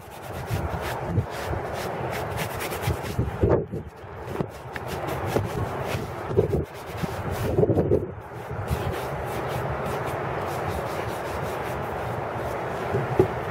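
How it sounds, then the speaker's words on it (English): A soft brush sweeps repeatedly over a polished leather police boot, giving steady close rubbing strokes in an uneven rhythm with brief pauses, heard alone without talk. "You just kind of give it a nice soft brush down that evens out the polish"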